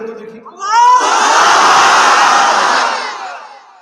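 Large crowd at a Bangla religious gathering (mahfil) in Satkhira roaring the takbir, Allahu Akbar, in unison: a single voice leads in briefly, then a loud, sustained mass shout swells and fades over a few seconds.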